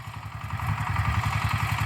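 A walk-behind tractor engine chugs in a garden where potatoes are being hilled, with a close, loud, steady rapid putter and mechanical clatter and no voices.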